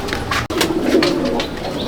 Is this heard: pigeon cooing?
yes